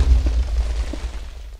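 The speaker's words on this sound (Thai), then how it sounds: "โอ้โหระเบิดมาเลยปุ้ง" A Minecraft explosion goes off in a Lucky Block game, a loud, deep, rumbling boom that fills the short clip and fades slightly toward the end.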